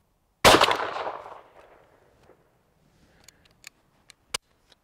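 A single loud shotgun blast firing a 30 gram compostable cartridge of number five shot, close, with a decaying roar followed by a few faint clicks and a sharp mechanical snap.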